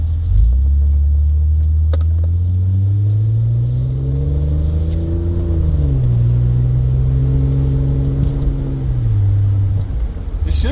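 A car with a rebuilt 4L60e automatic transmission driving, its engine note rising and then dropping at each shift over a steady cabin rumble, close and continuous with no talking.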